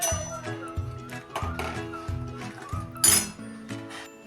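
A spoon stirs saffron milk in a metal pot, knocking and clinking against the sides in a quick, repeated rhythm, close and fairly loud.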